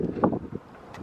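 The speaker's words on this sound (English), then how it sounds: "Sorry for the wind. This place is always windy." Brief outdoor wind blasts hit the microphone in a windy spot, a close rumbling buffet in short bursts that fades quickly.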